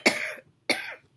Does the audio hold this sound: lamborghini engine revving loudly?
no